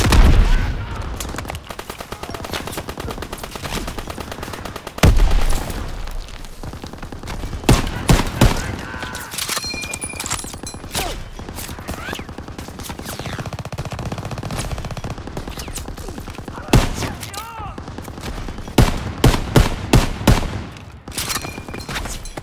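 Rapid machine gun bursts and heavy booms from a bombarded beach landing in Call of Duty WWII, dense continuous gunfire with echoing impacts throughout, loud and chaotic, with shouted voices mixed in.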